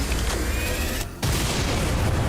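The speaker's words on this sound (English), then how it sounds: "God, I missed our artillery cannon." A heavy artillery cannon fired by a MEC in XCOM 2, a loud, dense booming blast that cuts off briefly before another powerful roar follows.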